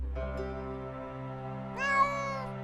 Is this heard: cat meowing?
yes